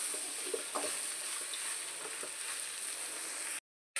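Potato masala for masala dosa being stirred in a pan, giving a steady close sizzle with light scraping strokes throughout, then cutting to silence near the end.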